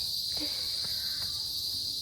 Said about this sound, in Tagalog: Maririnig mo mga kuliglig.